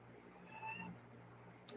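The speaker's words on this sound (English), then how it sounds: "I really apologize if you hear my cats." Cats meow faintly indoors in a quiet room, with a couple of soft, drawn-out mews over a low background hum and a brief higher squeak near the end.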